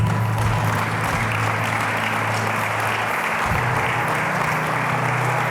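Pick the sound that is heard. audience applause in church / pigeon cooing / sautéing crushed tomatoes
audience applause in church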